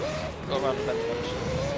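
An LMP Dragon race car in Gran Turismo 3 drones steadily at high revs, its tonal engine whine rising slowly in pitch, with a hint of tire noise and a voice talking over it.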